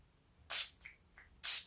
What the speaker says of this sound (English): I'm just going to spray the brush